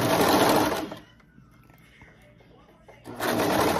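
Sewing machine stitching an elastic leg band onto a cloth diaper, a fast loud mechanical whir that stops for a couple of seconds of quiet and then starts up again, close to the listener.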